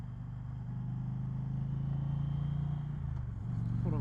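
A motorcycle engine drones steadily as the bike rides through twisty roads, captured from a helmet-mounted setup with an even, continuous hum and little change in loudness.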